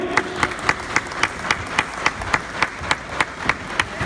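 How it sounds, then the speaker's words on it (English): An audience applauding on cue at an Arabian mare training session, steady rhythmic clapping with regular sharp claps cutting through the crowd noise. "I want you to clap as loud as you possibly can"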